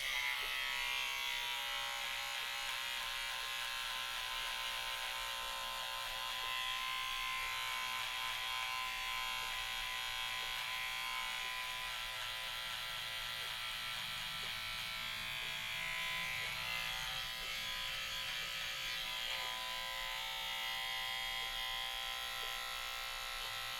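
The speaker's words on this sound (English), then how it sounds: "So I actually will trim this down to try to match this side so it's even." An electric trimmer trims a goatee, a continuous close high-pitched buzz that holds steady for the full stretch with slight shifts as it moves over the hair.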